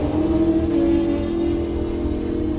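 A 2013 Kawasaki drag racing machine accelerates hard at a drag strip, a steady loud engine drone with a rising whining tone, heard close and alone.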